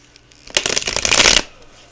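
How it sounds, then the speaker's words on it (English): A deck of new plastic-coated oracle cards being shuffled, a dense riffling burst lasting about a second, close and loud, with no talking. "They're very hard to shuffle."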